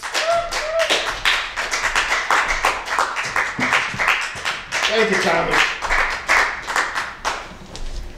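A comedy club audience claps and applauds a comedian in a steady, close patter that runs the whole time, with someone speaking over it at the start and again near the middle.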